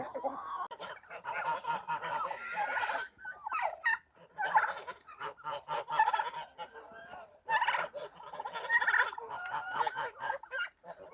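A flock of geese makes a continuous noisy chorus of honks and gabbling calls, close by, rising and falling in bursts with brief pauses.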